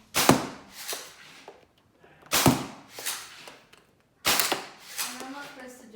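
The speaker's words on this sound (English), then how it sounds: "This is firing the red Dart Zone Max with the Swift from Worker." Red Dart Zone Max foam dart blaster fired three times in sharp, loud bursts spaced about two seconds apart, each followed by mechanical rattles and clicks of the blaster, with a faint voice near the end.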